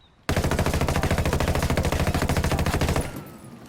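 A 416 rifle in Ghost Recon Wildlands empties a full magazine in one sustained rapid burst of loud, evenly spaced shots. The shots stop abruptly and a short fading tail follows.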